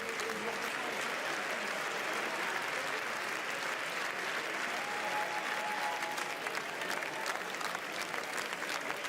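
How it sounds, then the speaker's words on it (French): Packed Cannes Film Festival hall erupting in long, sustained applause, a dense wash of many hands clapping at a distance, steady throughout with a faint murmur of voices. "après de longs applaudissements très nourris à l'intérieur de la salle"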